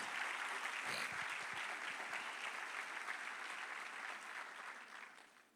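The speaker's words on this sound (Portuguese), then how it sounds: "Aplauda o Senhor Jesus por vocês." A church congregation applauds during a Portuguese-language worship service, a dense, steady wash of clapping from many hands that holds strong throughout before tapering off at the very end.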